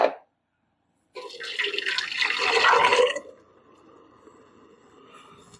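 Liquid for tomato salsa pours into a measuring container for about two seconds as a close, steady rushing splash, then settles into a faint trickle.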